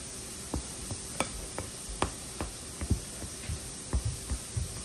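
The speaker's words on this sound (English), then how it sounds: "First, I want to get it all stirred up in there." Buttermilk is stirred into biscuit dough with soft, wet, irregular scrapes and thuds against the bowl, quiet and close, with no talking.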